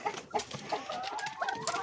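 Andijan black hens and a rooster cluck and chatter faintly in a coop, soft overlapping calls with scattered rustling and no talk.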